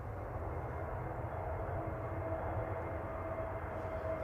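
An EasyJet Airbus A321neo arriving from Malta lands at Manchester Airport, a steady, fairly distant engine rumble and hiss that holds for a few seconds with no talk.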